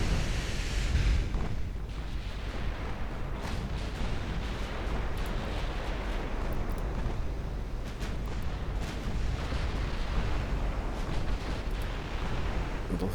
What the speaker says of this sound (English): Both of you are firing HE.